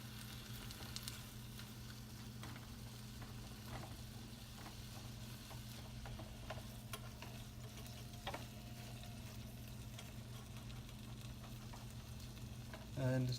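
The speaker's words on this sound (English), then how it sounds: "I'm going to saute." Vegetables for menemen sauté in a hot pan, a faint continuous sizzle with occasional scrapes and clicks of stirring, steady and close.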